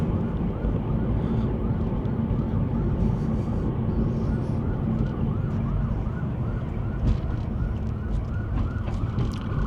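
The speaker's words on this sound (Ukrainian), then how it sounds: "Так, чую, швидка їде," An ambulance siren wails in repeated rising and falling sweeps through loud, steady road rumble from a moving delivery truck in central Winnipeg, Canada.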